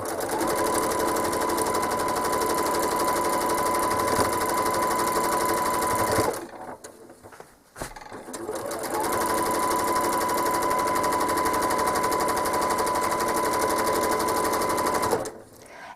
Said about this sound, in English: all I'm doing is stitching a curve from corner to corner along the edges